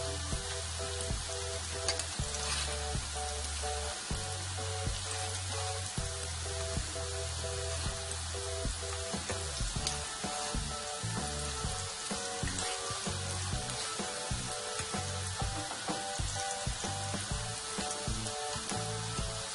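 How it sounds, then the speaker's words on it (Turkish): Cauliflower fritters sizzle and crackle steadily in hot oil, a close, continuous frying sound with a faint repeating hum underneath. "Karnabahar köftelerimi bir tarafı kızarmaya başladı"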